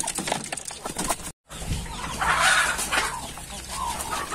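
Free-range chickens of a breed prized by restaurants cluck steadily, close and fairly loud, against outdoor farmyard background noise with a short break partway through.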